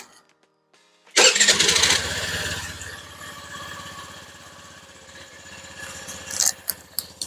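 A Honda Navi fitted with a Polini air filter cranks and fires up after a moment of silence, then settles into a steady, close, loud idle with a few sharp revs near the end.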